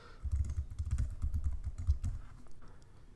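Fingers type on a computer keyboard in a quick, irregular run of close, crisp key clicks lasting a few seconds, then taper off, with no voices heard.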